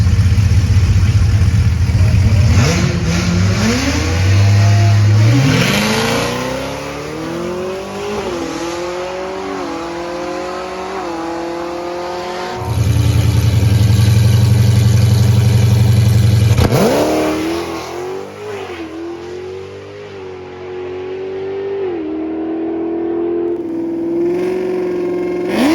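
Chevrolet ZL1 Camaro launching down a quarter-mile drag strip, its engine roaring loud and close with a rising revving pitch through repeated gear changes, a brief drop, then another hard surge of acceleration.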